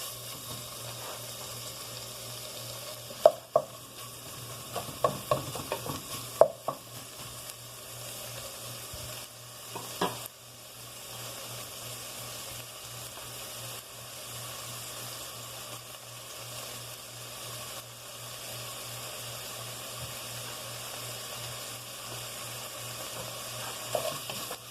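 Rice frying in a pan, stirred until caramelized: a steady sizzle throughout, with a cluster of scraping stirs and clinks early on and another knock near the middle, with no talk over it.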